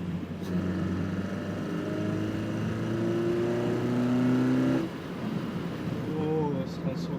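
A Honda Fit engine fitted with an HPS intake revs up, its tone climbing steadily to high RPM before dropping off, then climbing again briefly, heard close with a person talking over it.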